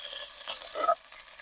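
Pork sizzles in hot oil in a cauldron while a utensil stirs and scrapes through it briefly, close by.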